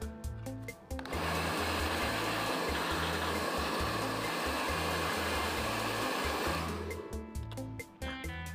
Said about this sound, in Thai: เดี๋ยวพ่อค้าขอเป่าไล่ที่โปรเจคเตอร์สักนิดนึงครับเผื่อมันมีฝุ่น